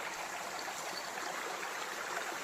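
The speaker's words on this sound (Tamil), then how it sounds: "பாருங்கள், இவ்வளோ ஓடைகளும்." Forest streams flow through dense wild woodland, a steady broadband rush of running water, even and continuous with no voices.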